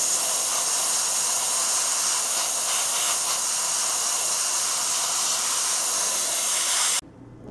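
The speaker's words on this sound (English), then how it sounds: "now I'm going to use my airbrush to start painting the interior" Steady hiss of an airbrush spraying paint onto the interior of a 1/35 scale Academy M1151 Humvee kit over black primer, continuous and close for about seven seconds before cutting off abruptly.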